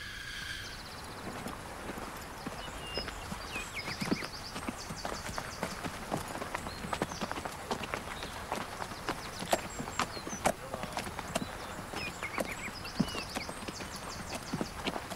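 A horse's hooves clip-clop in a steady run of sharp, hollow knocks across the whole stretch, moderately close, over a faint hiss of background noise.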